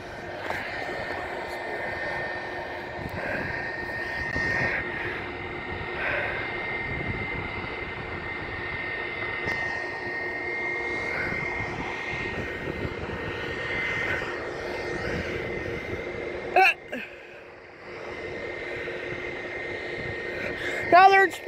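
Airplanes at Detroit Metro Airport, with a steady engine roar at moderate distance that keeps going throughout, joined by wind buffeting and brief handling noises near the microphone.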